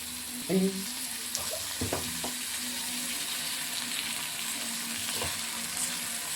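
Tomatoes fry in a pan with a continuous moderate sizzle, broken by a few sharp clinks and scrapes from stirring early on, then a steadier hiss and an occasional tap, with no talk.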